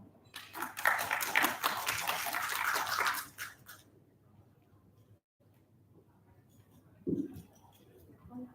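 Welcoming applause from a conference audience as a research and development director is invited on stage, a dense burst of clapping for about three seconds that then fades into quiet room tone.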